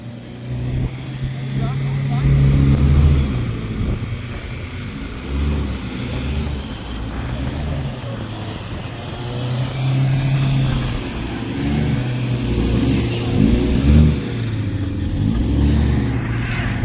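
A car engine revs hard as its tyres slip and spin in blizzard snow, the rising and falling drone close and fairly loud throughout, with people talking over it.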